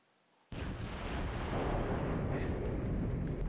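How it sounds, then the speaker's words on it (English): Distant M109 self-propelled artillery firing in the Flashpoint Campaigns: Red Storm war game, a sudden loud broadband blast that holds as a sustained rumbling roar with no speech. "one of those beat up M109s is firing all the way back there"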